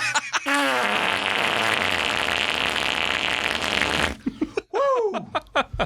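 A voice does a loud, drawn-out imitation of a fart that lasts several seconds, followed by bursts of speech and laughter.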